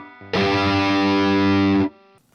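An electric guitar with heavy distortion plays the opening note of a riff, one loud held chord that rings for about a second and a half before being sharply cut off, alone and close.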